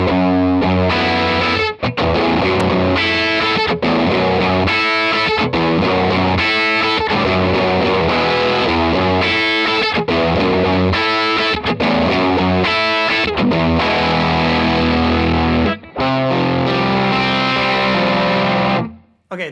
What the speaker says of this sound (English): The next model is the hard fuzz. This is a custom model from Fractal, 60s style clipping.